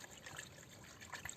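Water is stirred together with a PVA-free fishing bait liquid, giving a faint, soft trickling and sloshing that continues quietly throughout with a few slightly louder splashy moments.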